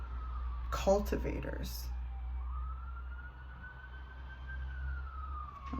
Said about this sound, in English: Sorry if that siren's loud in the background